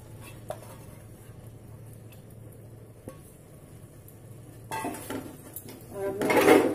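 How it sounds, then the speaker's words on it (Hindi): Soaked chana dal added to cooked spices in a pan for a dhaba-style dal: quiet clinks early on, then louder scraping and sizzling stirring toward the end, near and without talk. "अब मैं इसमें ये चने की दाल डाल दे रही हूँ"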